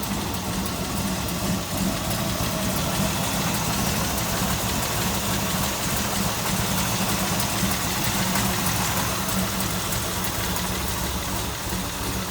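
Engine of a 1970 Chevrolet Nova SS with a 5-speed idling steadily, a continuous low rumble throughout with no talk.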